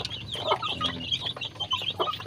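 Free-range village chickens cluck close by in a backyard in short, busy bursts, several birds overlapping with no one talking.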